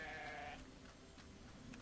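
A sheep in the video game Grow Home gives a couple of brief bleats early on, fairly faint against a soft ambient game backdrop, with the rest of the moment quiet.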